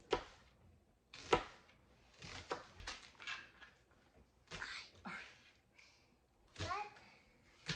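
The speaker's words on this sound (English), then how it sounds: "So we're gonna cut up an onion" A knife chops an onion on a cutting board in a home kitchen with a series of quiet, irregular thuds. The chopping is soft and close, with short pauses between the strokes.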